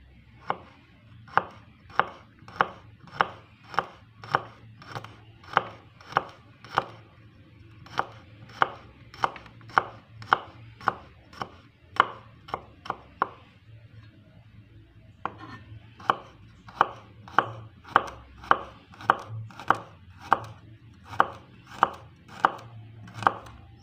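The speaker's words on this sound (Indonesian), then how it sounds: "kita iris-iris bawang putih dan bawang merahnya ya" A knife chops garlic and shallots on a board in sharp, evenly spaced strikes, running steadily with a couple of short pauses, close and alone.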